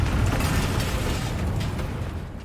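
A Confringo blasting spell explodes in Hogwarts Legacy, a loud sustained rumbling burst with heavy low-end roar that fills the whole moment and slowly tails off.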